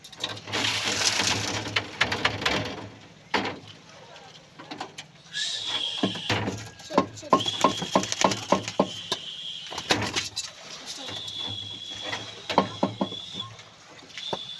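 A tame pet pigeon named Rigor makes soft cooing and fluttering sounds up close. They mix with clattering, knocking handling noises and someone speaking.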